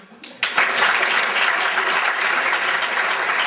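An audience at a Low German stage comedy show in East Frisia bursts into applause, rising suddenly after a brief pause into loud, sustained clapping that fills the room.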